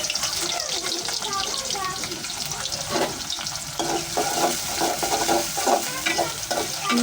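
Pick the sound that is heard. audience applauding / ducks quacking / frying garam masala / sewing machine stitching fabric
frying garam masala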